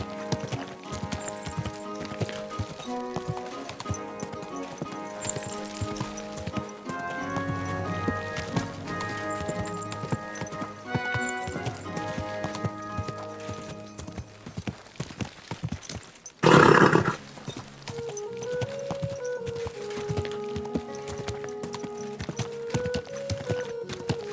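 Horse hooves clip-clop in the medieval RPG Kingdom Come: Deliverance 2, a steady walking rhythm set under a constant bed of game music, with a brief loud burst partway through.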